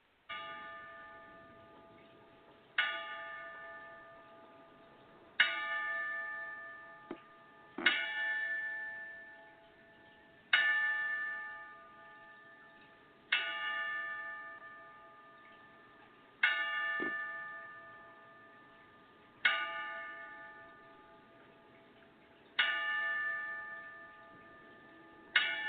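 A boxing ring bell tolls ten times in memoriam, evenly spaced metallic dings about every two and a half seconds, each ringing out and decaying before the next, with nothing else heard.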